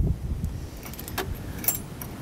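Metal clinks and rattles close by as a pin slides through a Roadmaster direct-connect tow bar base plate on a 2022 Chevrolet, with a few light jingling taps.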